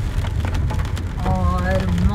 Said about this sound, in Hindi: बारिश पुरजोर हो रही है